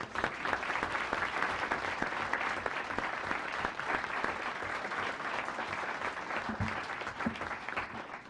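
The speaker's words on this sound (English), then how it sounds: "So, one more round of applause for Mel" Sustained applause from an audience at a school board meeting, steady clapping that fills the room for several seconds without a break.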